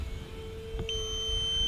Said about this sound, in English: That's my 5-minute countdown timer you guys are hearing.